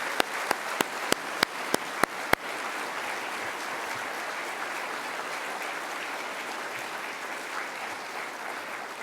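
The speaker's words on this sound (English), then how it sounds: "So please join me in one more round of applause for the Tanner family." Several sharp, evenly spaced claps ring out close by, then broad applause from a ceremony audience honoring a soldier's family swells into a steady, even roar that continues throughout.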